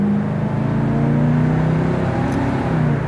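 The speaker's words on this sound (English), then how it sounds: "There's nothing better than that sound of a four-barrel carburetor opening up" The four-barrel carburetor V8 of a 1971 Chevy Camaro SS revs steadily with a deep, continuous roar that swells slightly and holds at high volume, no voices heard.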